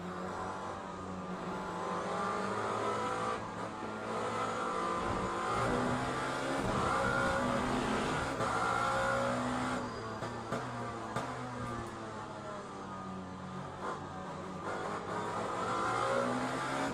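Race cars from the Le Mans Ultimate racing game run flat out on cold tires, a continuous layered engine roar that stays steady at high revs through the whole stretch, with no voices.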